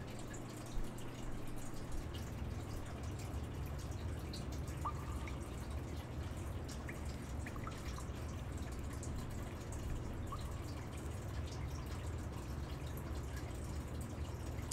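Water drips in a quiet cave or interior from the video game Tales of Berseria, a few soft isolated drops spaced apart over a low steady ambient hum.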